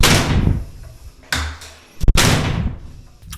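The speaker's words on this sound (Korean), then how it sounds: "방 안에서 문을 닫았다가" A room door is shut with a thud, then yanked open with a sharp burst of air and a bang, each close and loud with a brief rushing decay.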